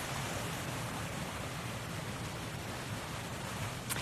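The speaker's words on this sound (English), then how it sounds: "you can probably hear the water. There's a waterfall coming down the mountain there." A waterfall pours down a mountainside on a misty morning, making a steady, dense rushing roar that holds level throughout without pauses.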